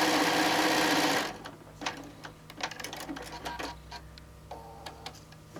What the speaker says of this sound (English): So we're going to sew down.